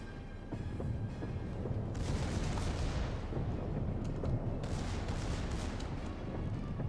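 Secondary guns on a Republic battleship in World of Warships fire in a dense, continuous barrage of booms and rumbling blasts, loud and unbroken, without voices.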